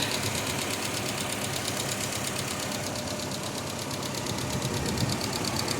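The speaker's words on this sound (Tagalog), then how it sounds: "So maingay pa yan kasi valve lifter yan." A Toyota Hilux engine runs steadily with a fast, continuous ticking clatter from noisy valve lifters over the idle, close and unchanging throughout.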